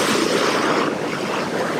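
Ocean waves breaking on a Lanzarote beach where bodysurfers ride the surf, a close, loud, continuous rush of churning water with wind noise on the microphone.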